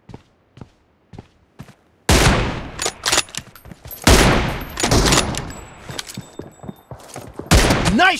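Gunfire in a PUBG Mobile team-deathmatch room with M24 rifles, loud close bursts and single shots crowding the second half after a few quiet isolated thumps, no voices.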